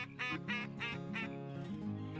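A duck call sounds in the hunting video game Cabela's Outdoor Adventures 2010, set in Kansas: four loud, nasal quacks in quick succession, then a lower, drawn-out honking tail, all up close with no talk.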